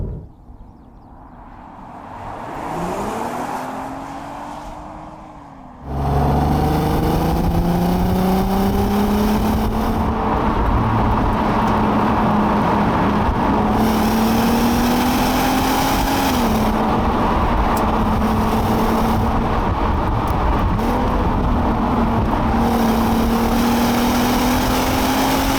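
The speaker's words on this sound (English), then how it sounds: "The engine pulls very smoothly, linearly" A 2005 Audi A3 3.2 Quattro engine revs up briefly, then a loud, steady drone of hard acceleration runs on, pitch climbing smoothly and dipping with gear changes, heard from inside.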